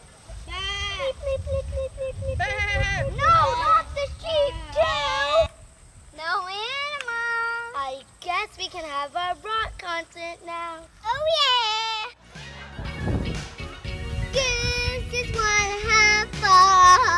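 Sheep bleat in a comic scene about a UFO coming for farm animals. A series of wavering, quavering bleats alternates with voices, some of which sound like people imitating the animals.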